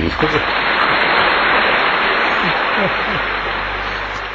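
An audience bursts into dense, steady applause after a quoted line at an Indonesian-language talk, a thick wash of clapping that holds at full strength and thins only slightly toward the end, with voices faintly mixed in.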